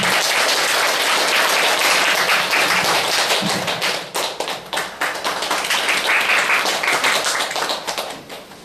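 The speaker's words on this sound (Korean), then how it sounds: "큰 환영의 박수 부탁드립니다." Dense audience applause fills a hall at a book launch celebration for a Buddhist monk's new book. It is loud and steady at first, then thins into looser, separate claps that fade toward the end.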